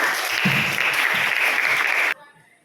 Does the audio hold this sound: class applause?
yes